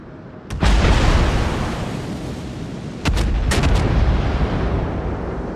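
A World of Warships battleship fires HE shells in two heavy, booming salvos a few seconds apart, each a sudden loud blast trailing into a long rumbling roar.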